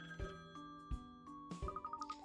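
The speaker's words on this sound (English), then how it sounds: "Oh, that's the phone, I'll get it." A telephone rings in the Layton's Mystery Journey video game, sounding as a short series of bright, tonal electronic rings with a quick repeating trill near the end, clear and fairly close over a quiet background.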